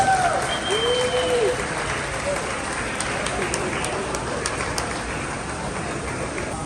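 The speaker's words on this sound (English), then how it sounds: "Please give them a round of applause." Audience aboard the Sun Princess cruise ship applauding, steady dense clapping throughout, with voices mixed in underneath.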